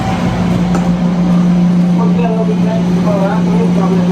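A steady low hum and rumble from inside a moving train fills the space, with faint voices murmuring in the background.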